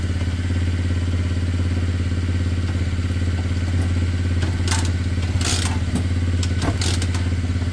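Two motorcycle engines idling with a steady low rumble and fast regular putter, loud and close, with a few scrapes and clatters over it.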